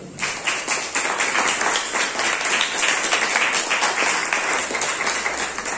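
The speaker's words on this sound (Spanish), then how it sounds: "Denle un aplauso al Señor" A church congregation applauds during a sermon, steady brisk clapping from many hands filling the space at moderate level.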